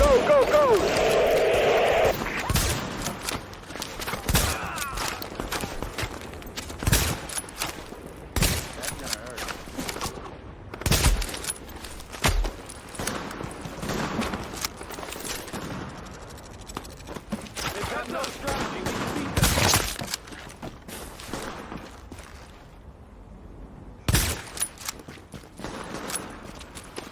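Gunfire rattles through a firefight in The Division, starting with a loud burst, then sharp shots and short volleys cracking at irregular intervals, some close and loud, others thinner, with quieter gaps between.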